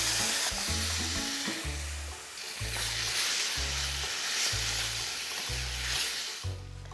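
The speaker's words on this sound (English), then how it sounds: "And then I'm going to add my tomatoes." Tomatoes sizzle in a hot pan with star anise, making a steady frying hiss. Rhythmic stirring knocks repeat about once a second beneath it.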